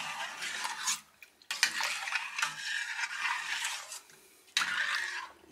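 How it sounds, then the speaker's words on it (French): Melted honey being stirred in a heated pot: a spoon scrapes and swishes against the metal in steady bursts, with two short pauses and no voices. "Encore un petit peu de miel au fond, il faut bien mélanger."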